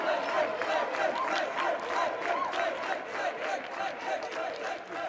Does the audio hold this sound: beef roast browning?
no